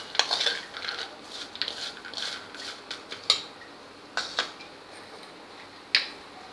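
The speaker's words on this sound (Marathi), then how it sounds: "हे मीठ घालून घेऊया आणि छान मिक्स करून घेऊया" Fried peanuts tossed with salt in a metal pan, heard as scattered scraping and sharp clinks of a spoon against the pan, irregular and moderately close, with quiet gaps between strokes.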